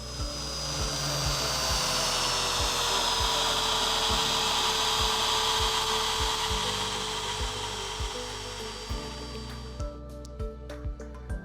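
An EBA INOX beveling machine runs steadily with a loud, high motor whine and grinding as its cutter bevels steel, with a regular ticking rhythm. It winds down near the end, leaving only scattered knocks.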